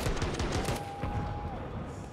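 Rapid gunfire from a Counter-Strike match on the Overpass map at a professional esports tournament, a quick rattling burst of shots over steady loud background noise.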